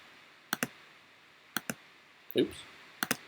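Computer mouse clicks while working in Animatron animation software: three pairs of quick, close, crisp double clicks spaced about a second apart, with a short soft rustle between the last two pairs, and no talking.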